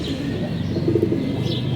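Racing pigeons coo close by in a soft, low, repeated burble over steady background noise, with faint high chirps near the end.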